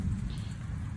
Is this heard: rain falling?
yes